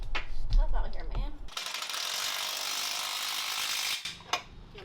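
Bolt being tightened on a jetski outdoors, a steady mechanical ratcheting rasp running for a few seconds in the middle, with short clicks and handling noises before and after and no talk.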